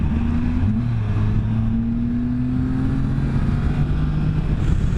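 Can-Am Spyder F3T three-wheeled motorcycle engine running steadily and loudly close by, a continuous drone holding pitch with a slight rise, alone without talk.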